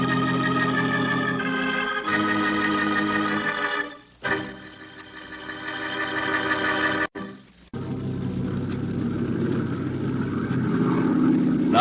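A propeller airplane drones steadily in flight as a radio drama sound effect, a loud continuous engine hum with brief dips and surges.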